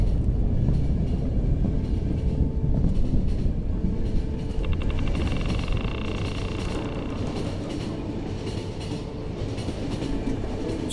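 A passenger train in the video game The Final Station runs steadily, its low rumble and faint rhythmic clatter continuing without pause, with no voices over it.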